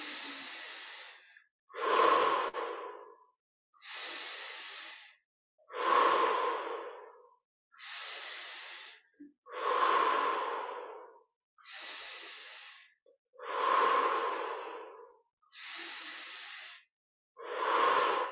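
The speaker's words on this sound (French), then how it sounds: "Et on est reparti pour 10 respirations." Slow, deep breaths during a guided meditation, about ten long inhales and exhales in a steady rhythm, each a soft close rush of air separated by brief silences.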